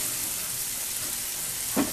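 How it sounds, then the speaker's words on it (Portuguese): Onion fries in a pan until golden, a steady close hiss of sizzling oil with a faint stir or clink near the end. "já tá ficando douradinha a minha cebola"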